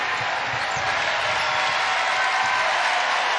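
Crowd at an NCAA women's basketball game between Kansas State and NC State cheering and applauding in a dense, steady roar, with faint ball bounces and a commentator's voice underneath.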